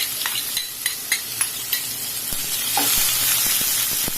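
Onions fry with bay leaf and whole garam masala in oil for a Bengali-style chicken curry: a steady sizzle broken by regular clicks and scrapes of a spoon stirring, close and moderately loud.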